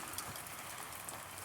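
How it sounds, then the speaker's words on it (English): Steady rain falls on a Sunday morning in California while rainwater is being collected, a soft, even patter with no voices. "Raining."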